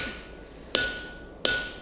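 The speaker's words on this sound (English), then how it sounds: "I'm going to take my sharp punch, try and get it nice and central on my little boss here" Two sharp metallic hammer blows ring out on a sharp punch held on a small boss while forging a nail header, each strike evenly spaced with a ringing tail in a quiet workshop.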